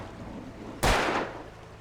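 A single loud gunshot in the Alan Wake video game cracks sharply over a low ambient background, then its echo tails off for about a second.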